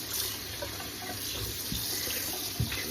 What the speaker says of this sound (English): Rinse any of the excess blood off of it.